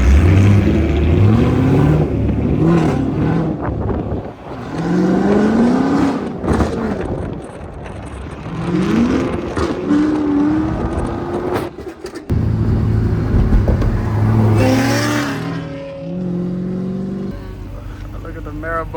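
A Camaro revs and slides on bald tires in a game, its engine rising and falling repeatedly through rapid revs, loud and close, with someone talking over it.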